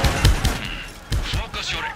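Gunfire in the Far Cry 6 video game: several heavy, booming shots in quick bursts, loud and close, with voices talking between and over them.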